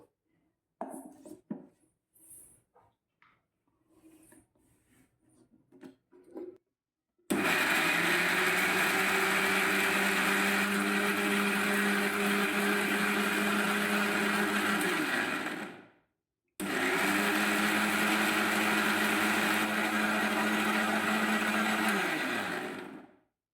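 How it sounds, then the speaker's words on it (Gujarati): A mixer grinder whirring loudly as it blends coriander and dried red chilli chutney with salt and water, running for about nine seconds, stopping briefly, then running again, after a few quiet clinks and knocks at the start. "હવે આપણે મિક્સરમાં આ બધું ગ્રાઇન્ડ કરી લઈશું"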